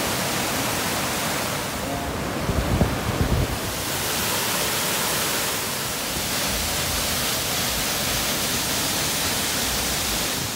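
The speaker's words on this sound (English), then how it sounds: "Beautiful waterfall here in Maui." A waterfall in Maui pours as a steady, broadband rush of falling water that fills the whole stretch, with a brief low thump partway through and no talk over it.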